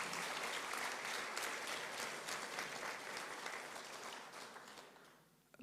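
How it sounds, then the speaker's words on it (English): An audience claps together at a resource mobilization report meeting, a dense, steady burst of applause that lasts several seconds before fading out near the end. "Can we clap for ourselves?"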